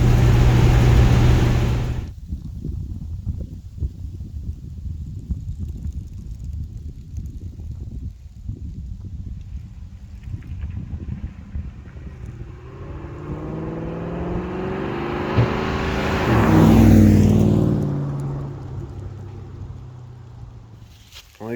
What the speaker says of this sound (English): Probably a little wind noise, but I can't get over how nice this thing drives.